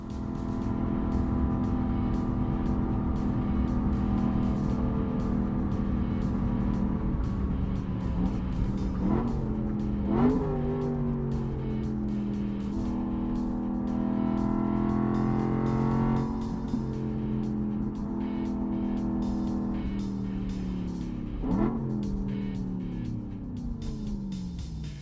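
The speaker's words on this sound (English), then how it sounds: "it's basically you need to rev match while you're braking." Car engine revving up in sharp blips as the driver rev-matches during heel-and-toe downshifts while braking into a corner on a spirited canyon drive; a steady, loud drone rises and falls in pitch, with distinct throttle blips between gears.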